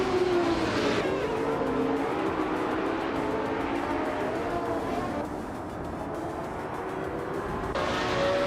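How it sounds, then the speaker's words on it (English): Video game race with a Lamborghini Reventon and other cars on track: continuous loud engine drone with shifting pitches as cars run together, steady throughout with brief changes in tone. "TPPA is driving a Lamborghini Reventon, a car known for its aggressive looks and sharp handling"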